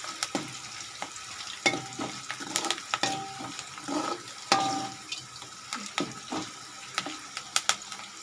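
Ingredients for lemon rice fry in a pan, a close sizzle broken by irregular sharp crackles and pops and a few clinks of stirring. No one speaks.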